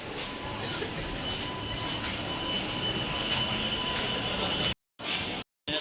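A Delhi metro train at the Sarojini Nagar station gives off a steady, loud rumble with a faint high whine, continuous throughout apart from two short dropouts near the end.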